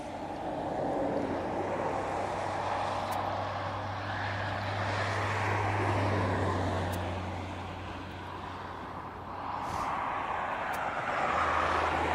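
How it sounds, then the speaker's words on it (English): Aircraft flying near East Midlands Airport, its broad engine roar steady and fairly loud throughout, with a low droning hum beneath, swelling slightly near the end; no speech. "with some aircraft heading your way"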